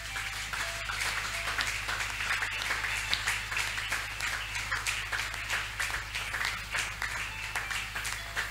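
A church congregation claps and cheers to praise the Lord during a French-language deliverance service. The applause is dense and continuous, at a moderate distance, with little talk.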